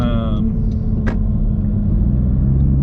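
Road traffic rumbles past at close range, a heavy low engine drone with a brief sharp hiss, as from a bus or truck brake, and someone talking at the start.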